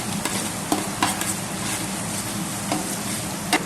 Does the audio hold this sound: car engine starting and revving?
no